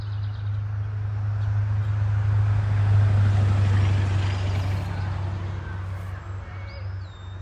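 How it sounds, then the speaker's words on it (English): Steady road traffic rumble from a nearby road beside a vegetable garden, a continuous low roar swelling and fading slightly across the clip, with a faint higher chirp near the end. "Sorry about the road noise."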